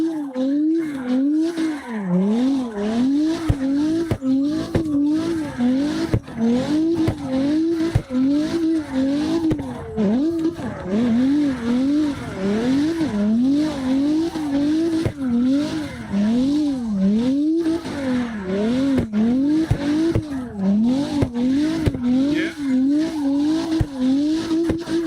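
A drifting car in CarX Drift Racing Online whines with revving engine tones that rise and fall rhythmically over continuous tire squeal for a long, loud stretch, with faint talk underneath.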